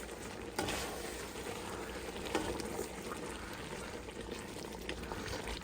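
Brown gravy mix being stirred in a pot over heat gives a faint, steady bubbling and simmering hiss with a couple of soft utensil knocks.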